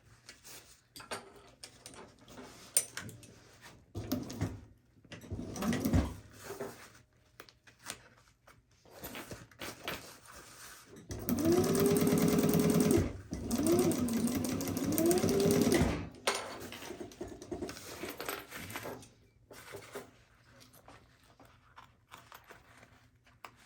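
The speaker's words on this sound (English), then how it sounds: "I've got my machine right here, and then just stitch this right along there at a 1/8 inch seam allowance to close that up" A sewing machine stitches a seam on a zip pouch in bursts, a whirring mechanical run in the middle with quieter handling noises before and after, fairly close.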